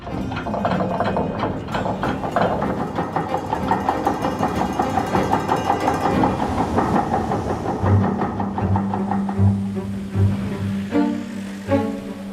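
A chain ferry's engine gives a steady mechanical rumble with rhythmic clanking and whirring throughout, loud and close, shifting in tone toward the end.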